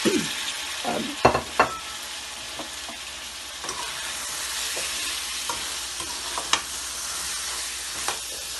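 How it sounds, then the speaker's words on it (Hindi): Potatoes are tipped into minced meat qeema frying in oil, with a few sharp clatters and stirring scrapes over a steady, close sizzle. "अब इसमें डालेंगे आलू।"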